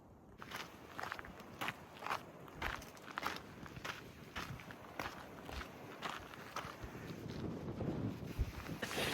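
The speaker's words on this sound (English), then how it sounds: "Got down into this ravine, and it's like a wind tunnel." Cold wind gusting through a desert ravine on a canyon trail, a steady rushing blow that builds toward the end, with crunchy footstep-like rustles and mic buffeting close by throughout.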